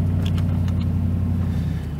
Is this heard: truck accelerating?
yes